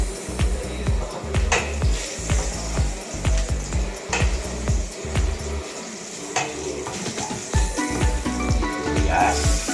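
Garlic and onion sizzling in hot cooking oil in a pan for Filipino giniling na baboy (ground pork), a steady close frying hiss with utensil scrapes and clinks while a person talks.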